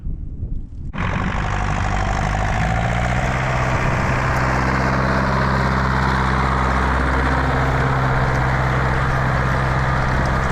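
An 80-series tractor engine runs loud and steady under heavy strain while pulling a disc harrow, starting up sharply after a second and then holding a constant low drone with a strong rumble.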